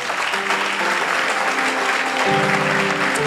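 A church congregation applauds in a sustained, dense wash of clapping, steady and fairly loud, with faint voices and some sustained musical tones running beneath it.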